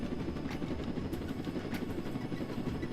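Helicopter in the Roblox game Jailbreak, a steady, dense rotor chop that throbs continuously and close throughout, with no talk over it.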